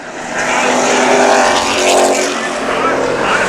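Street stock race cars roar around Havasu 95 Speedway in a feature race, a loud, continuous engine drone that swells and fades as the pack passes, with an announcer talking over it.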